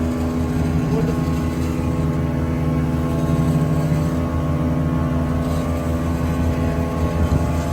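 A passenger boat's engine drones loud and steady on the trip to St Mary's Island off Malpe, a continuous low humming throb with no pauses.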